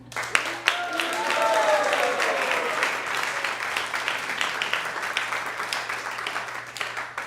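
Applause for devotees at a Krishna Katha gathering, sustained clapping from a crowd over a steady hum, with some voices faintly underneath.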